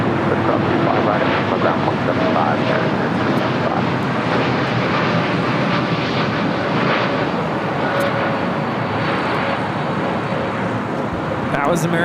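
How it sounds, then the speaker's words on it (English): An American Airlines Boeing 787-8 Dreamliner takes off from LAX, a steady, loud jet engine roar that carries on throughout the clip. "That was American Airlines 1585 taking off to Chicago on a 787-8 Dreamliner."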